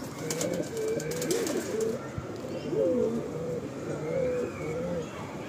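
Several pigeons in a loft coo in repeated low, warbling phrases that rise and fall across the clip, fairly close and steady, over a dense bed of background bird noise.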